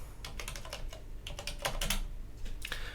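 Rapid typing on a computer keyboard, a steady run of close, crisp keystrokes with brief pauses and no voices.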